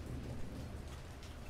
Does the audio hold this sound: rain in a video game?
yes